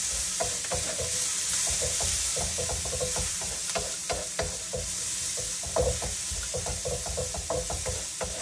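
Onion fries in a pan under continuous sizzling as a spoon stirs it, giving frequent scraping knocks against the metal in an irregular rhythm, close and fairly loud.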